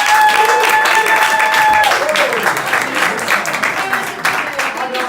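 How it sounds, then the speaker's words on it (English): An audience claps in a sustained round of applause, with a voice speaking over it at the start. "give her a big round of applause"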